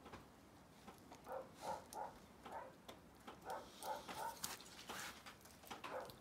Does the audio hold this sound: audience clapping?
no